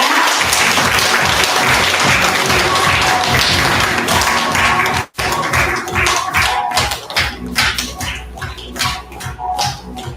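Loud, sustained applause from an audience, dense clapping throughout with a brief cut midway, then continuing with uneven bursts.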